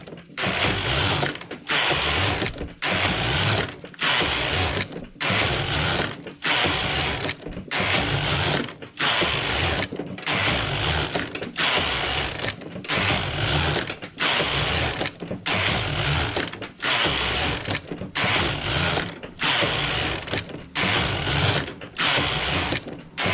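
A domestic knitting machine knits rows of English rib stitch, its carriage sliding back and forth in a long regular series of loud rattling passes, each separated by a short pause, close and with no talking.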